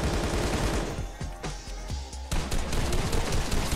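Light machine gun in Fortnite firing in rapid bursts, with sharp repeated shots, a short pause in the middle, then more sustained fire, loud and close.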